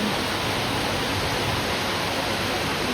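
Heavy downpour over a flooded residential area, an even, close and loud rushing hiss that holds steady from start to finish.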